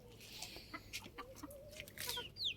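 Chickens cluck and murmur in short, scattered calls at moderate distance, with a few higher squawks near the end; no one speaks.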